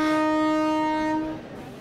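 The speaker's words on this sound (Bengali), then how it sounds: "তোর ট্রেন চলে এসেছে।" A train arriving at a station sounds its horn, one loud sustained blast that fades out after about a second and a half, with no talking.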